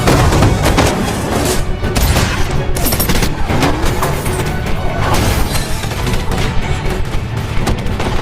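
Heavy gunfire fills a movie shootout between a village cop's allies and cartel gang members: loud, dense bursts of shots and booms arrive in rapid succession, steady and unbroken throughout.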